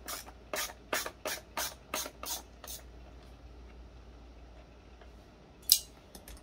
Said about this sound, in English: we're going to take out all these screws